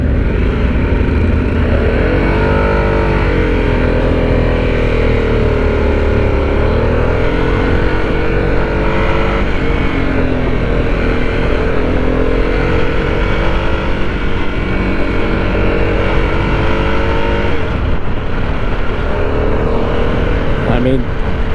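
A 2021 Harley-Davidson Sportster S motorcycle rumbles steadily while being ridden, its engine note rising and dropping as gears shift, loud and close throughout, with a rider talking over it.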